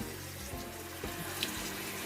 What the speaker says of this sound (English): Now that we add the water